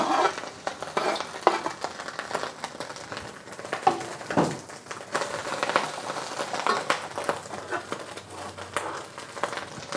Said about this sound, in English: Adding all of my meat, Chinese sausage, pork belly.